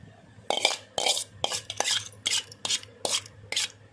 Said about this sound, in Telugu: ఇది ఆ పోపు అయితే దీనిలో పోసేస్తాం.